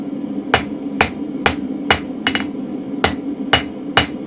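Hammer blows on mild steel held in a spring fuller at the anvil, eight sharp ringing strikes at a steady, moderate pace with one quick double hit in the middle, close and clear with no talk.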